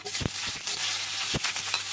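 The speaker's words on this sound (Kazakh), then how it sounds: "Табаға май құйып, барлығын рет-ретмен қуырамыз." Vegetables fry in oil in a pan, a soft steady sizzle broken by a few sharp knocks of stirring, close by and with no voices.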